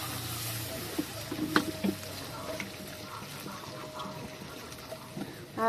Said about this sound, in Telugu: ఇప్పుడు 4 కప్పులు నీళ్ళు పోసుకుందాం.